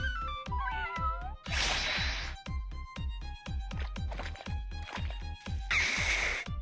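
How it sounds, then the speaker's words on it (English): A cartoon cat summoned in the video game Epic Battle Fantasy 4 meows twice, loud and bright, over a steady rhythmic game soundtrack with sharp repeated beats. "Summon the cat."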